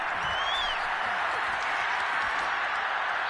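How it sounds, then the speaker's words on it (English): Steady crowd applause from a stadium in the American football game Madden 22, a dense, even wash of clapping at moderate loudness with a faint whistle early on and no breaks. "We're going to give out a little applause on that play."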